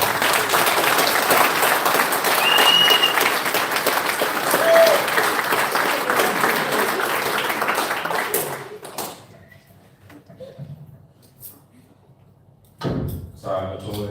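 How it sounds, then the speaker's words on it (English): A crowd at a football club's senior prize giving applauds loudly for about eight seconds, then the clapping breaks off, leaving quiet room noise with a few thumps and a brief burst of sound near the end. "So let's give Leanne a massive round of applause"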